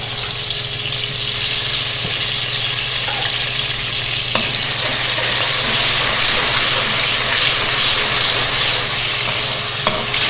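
Ginger garlic paste fries in about half a cup of oil in a deep cooking pot. A steady, loud sizzle and bubbling runs throughout, with no voices.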